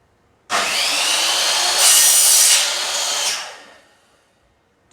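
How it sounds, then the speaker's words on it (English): A blade sawing through PVC pipe lift, producing a loud, continuous, close-up grinding buzz lasting about three seconds, rising slightly in the middle before fading away. "we need to cut our lifts down"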